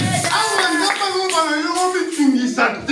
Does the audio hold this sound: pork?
no